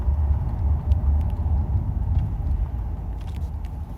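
A Mercedes car with ASR and ABS warning lights on drives along, a steady low engine and road rumble heard from inside the cabin, with faint clicks above it.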